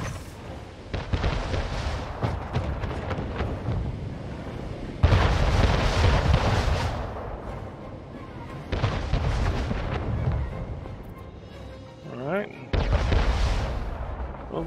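Warship cannons fire during a naval battle in Anno 1800, with long rolling volleys of booming shots in repeated waves, loud and close, against battle ambience.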